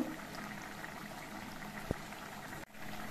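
Potatoes and drumstick pieces simmer in a pot, a quiet, steady bubbling with one brief sharp knock near the end, faint and without voices.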